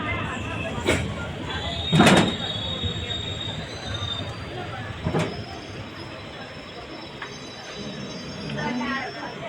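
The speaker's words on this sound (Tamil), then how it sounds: "ட்ரெயின் நல்ல ஸ்பீடு வந்துச்சுங்க லோக்கல் ட்ரெயினாக இருந்தாலும்" A local train on the Tenkasi to Tirunelveli route in India rumbles past at speed with steady rolling noise, scattered clanks and a few sharp metallic squeals from the wheels.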